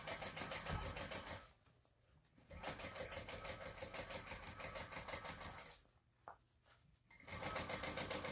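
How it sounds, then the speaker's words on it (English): A sewing machine topstitches a bag facing at a 1/8 inch seam allowance, running in steady rapid bursts up close with two brief slowdowns where the stitching pauses before picking up again. "then we're going to top stitch along here, 1/8 of an inch seam allowance"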